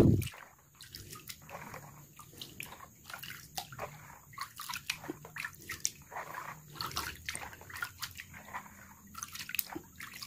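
Liquid fertilizer with decomposer microbes and white sugar is stirred in a container, producing faint sloshing and dripping with irregular soft splashes, quiet and close, with no talk.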